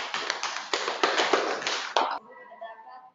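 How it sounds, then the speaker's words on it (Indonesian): A class gives a short burst of applause, dense overlapping claps for about two seconds that stop abruptly, followed by faint voices in the room. "kita beri aplaus untuk ini"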